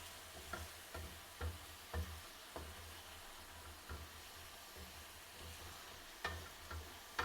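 Ground masala paste with ginger paste fries softly in a pan as the base for a Bengali Ayeer fish bhuna. A quiet sizzle sits under occasional spatula taps and scrapes.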